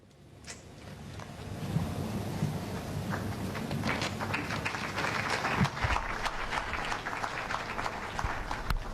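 Applause from an audience at a speech in Goma about the war in eastern DR Congo, a sustained clatter of clapping that swells and holds steady over outdoor wind noise.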